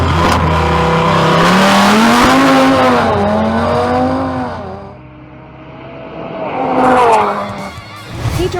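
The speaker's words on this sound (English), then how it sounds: "Pedro Mogollon in his Audi RS3 makes a solo run" An Audi RS3 launches hard on a drag strip for a solo run, its engine roaring loud and close with rising revs and gear changes, dipping briefly before surging again as it pulls away.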